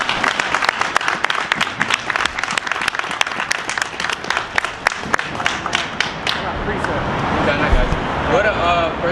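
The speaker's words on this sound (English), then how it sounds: "So you got to give, clap it up for the Most High" A street crowd around a Hebrew Israelite gathering claps loudly and rapidly for several seconds, the clapping thinning toward the end as voices and a louder babble take over.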